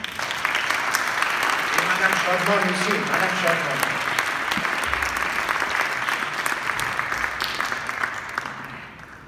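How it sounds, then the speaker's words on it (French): An audience claps steadily at a Nowruz gathering while someone speaks French over the applause, which fades out near the end. "je vous demande à tous de l'applaudir très fort"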